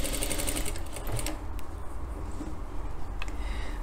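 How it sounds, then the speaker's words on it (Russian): A sewing machine runs in steady close bursts, stitching rouleau loops onto a blouse, its rapid mechanical whir clear over a quiet room with a few small clicks as it stops. "пойду за швейную машину, и за машинкой их временно пристрочу"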